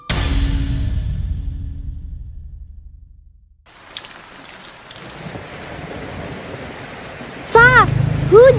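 Rain in the video game Sakura School Simulator sets in after a fading tone and a silent gap, then hisses steadily as a broad wash, with short chirping game sounds near the end.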